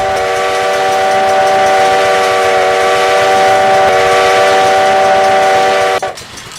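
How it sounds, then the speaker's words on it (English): An RO-scale model train pulls Pennsylvania coaches through a house, sounding a long, loud, steady multi-tone whistle for about six seconds before it cuts off abruptly and leaves quieter rumbling. "looks like here comes the train now"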